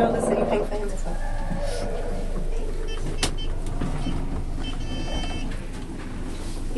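The Durie Hill Elevator in Wanganui rattles and shakes as the car moves, a steady mechanical rumble with scattered clunks, while people talk nearby.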